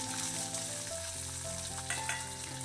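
Shallots fry with dal in a pan for tomato chutney, a close, continuous sizzle and crackle with light stirring throughout and no voices.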